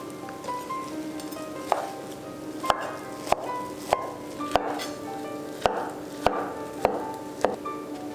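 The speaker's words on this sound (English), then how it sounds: "Let's roll this up and cut it into very thin pieces." Knife slicing an avocado kimbap roll into thin pieces on a board, about a dozen crisp chops in a steady rhythm over a faint background hum.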